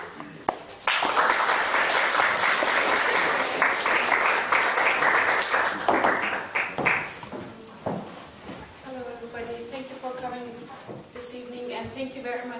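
An audience welcoming a lecturer bursts into sustained applause, a loud dense clatter of many hands that swells at once and then tapers off, with talking picking up as the clapping fades.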